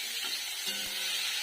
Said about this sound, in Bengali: হালকা করে একটু ভেজে নেব,